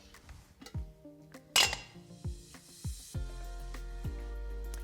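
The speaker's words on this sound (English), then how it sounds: "let's start first and put some rice on these plates" Brown rice being served onto plates, heard as a series of clinking strikes of a utensil against dishes, spaced irregularly, close and fairly quiet, with a low hum settling underneath toward the end.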